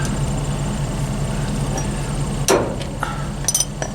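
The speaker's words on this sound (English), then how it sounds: "Gotta get this cotter pin out of here." Tools work a cotter pin out of a nut, giving a few sharp metallic clicks and taps after a stretch of steady low hum, close and fairly loud.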